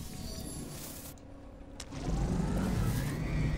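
The Pilgrim exocraft car in No Man's Sky starts and then runs with a steady engine rumble, a quieter lead-in giving way to a louder, sustained drone from about two seconds on.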